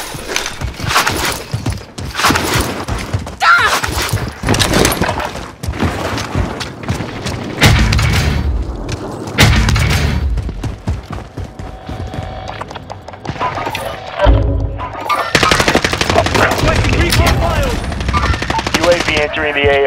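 Automatic gunfire in Call of Duty Warzone on Rebirth Island, played on PS5, comes in loud rapid bursts with short pauses and heavy booms, mixed with in-game radio voice callouts.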